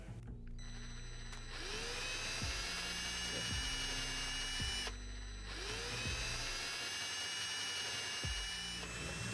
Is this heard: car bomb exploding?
no